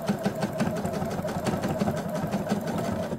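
A sewing machine stitching a zipper onto a skirt runs steadily at close range, a fast even mechanical rattle of needle strokes with no talk.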